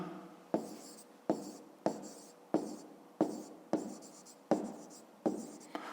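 Pen scratching on paper while working a fifth-grade math exercise: a steady rhythm of eight short, close strokes, each starting with a sharp tap and trailing off in a soft scratch, with no talk.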